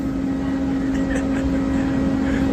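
An airplane on a first flight makes a steady cabin drone with a strong hum, loud and unbroken for the whole stretch. There is faint background chatter.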